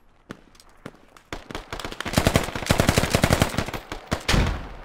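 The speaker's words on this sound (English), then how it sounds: "I was shooting at them" Gunfire in the Squad military video game: a few scattered shots followed by a dense, loud burst of rapid automatic fire and a final heavy volley, close and without talk.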